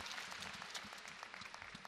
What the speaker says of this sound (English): and the crowd's noisy again